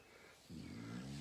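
A low, droning rasp starts halfway through and holds steady, like a dog snoring softly nearby in a quiet room.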